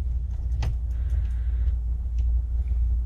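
A boat motor cranks over while its neutral safety wiring is tested, giving a steady, close, low rumble with faint ticks on top and no speech.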